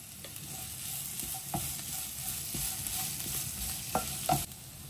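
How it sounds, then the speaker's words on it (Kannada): Grated coconut and spices frying in oil for a fish curry, a steady close sizzle with a few soft stirring scrapes and clicks near the end, no voices. "ಕೈ ಹಿಡಿಯಷ್ಟು ತೆಂಗಿನ ತುರಿ ಎಣ್ಣೆಯಲ್ಲಿ ಫ್ರೈ ಮಾಡೋಣ."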